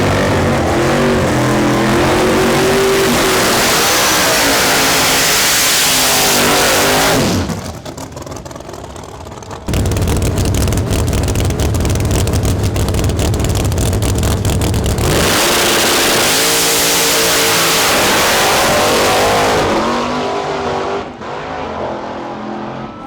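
Drag cars in a $500 heads-up race roar loudly and continuously at close range, with engines revving hard, a launch, and the roar sustained and shifting through the run before easing off near the end.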